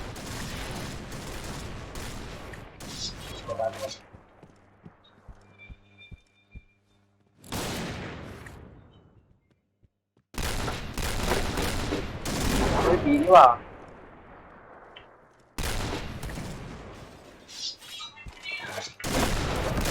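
Loud bursts of video-game gunfire break out in clusters, with short silent gaps between some volleys and a player talking over parts of the action.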